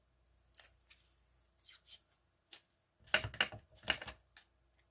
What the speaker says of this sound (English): I'm going to tape the top